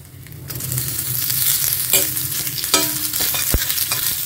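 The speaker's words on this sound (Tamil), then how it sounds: "இப்போ கொஞ்சம் கடலை எண்ணெய் சேர்த்திக்கிறேன்னா இதில் இந்த ஆனியன் வந்து போட போகிறேன்" Round-cut sliced onions go into hot peanut oil and fry in a pan with a rising steady sizzle, broken by a few sharp scrapes and knocks of a stirring utensil.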